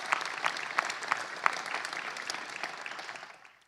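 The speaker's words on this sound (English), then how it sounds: "Please give them a great round of applause." Audience applause at a Phoenix Suns press conference, a steady wash of clapping with a few sharper claps that holds evenly and then fades out near the end.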